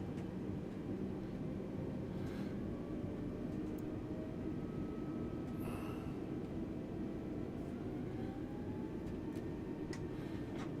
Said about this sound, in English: Get a little bit of power.